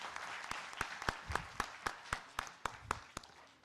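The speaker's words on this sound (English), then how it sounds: "Big round of applause for all the jury members" Sparse, evenly spaced hand claps, about a dozen sharp strikes in a slow rhythm, fairly faint and a little distant, from a small group applauding jury members at an institute award ceremony.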